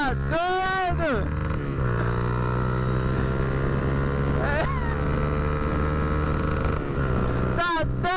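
A loud aluminium exhaust on a motorcycle holds a constant, near, rumbling idle-to-rev drone, with someone talking briefly at the start and end.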